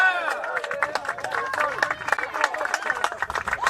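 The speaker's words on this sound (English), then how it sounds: "It's a great hand from the crowd when she came off." Crowd at a women's college soccer match gives a player a warm hand as she comes off the field, steady clapping and cheering spread across the stands with a voice talking over it throughout.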